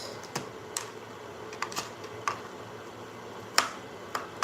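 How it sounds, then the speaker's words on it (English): Sharp knife chops through onions on a board in a home kitchen, a handful of crisp, separate cuts with uneven pauses between them, fairly close and without talk. "So we're gonna cut the onions."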